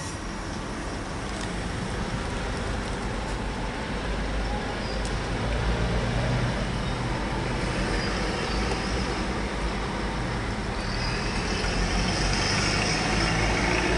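A 2022 Nissan Terra 2.5 VL 4x4 automatic idles just after start-up, a steady, even engine hum with a broad noisy rumble and no revving.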